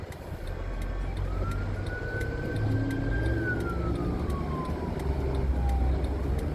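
An ambulance siren wails in a long, slow rise and fall over steady road traffic rumble, coming from a moderate distance.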